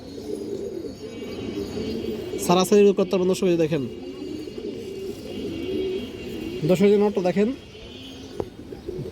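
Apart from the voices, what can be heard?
high flyer pigeons cooing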